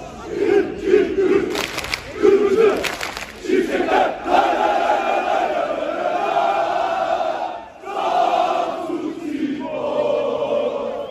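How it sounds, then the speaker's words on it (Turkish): Samsunspor football supporters chant loudly in unison while marching along a city street in cold, rainy weather, a dense crowd roar with rhythmic rising and falling bursts that continues almost without pause, briefly dipping before swelling again. "Taraftarların tezahüratlarına caddedeki vatandaşlar da eşlik ederek görsel bir şölene imza atıldı."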